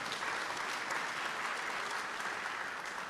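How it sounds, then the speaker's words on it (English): A seated audience gives the discussion panel on the ICJ case and Palestine another round of applause, a steady dense wash of many hands clapping at once that holds evenly throughout without pause. "Another round of applause for the panel,"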